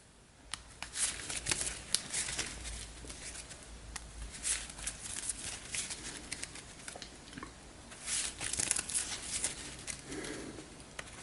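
A deck of game cards, some in clear sleeves, being shuffled during a tabletop card game session, with repeated soft riffling and flicking bursts spread across the whole stretch, close and fairly quiet, with no talking.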